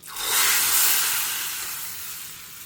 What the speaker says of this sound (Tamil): நெய்யில் தான் தாளிக்கணும் கண்டிப்பாக.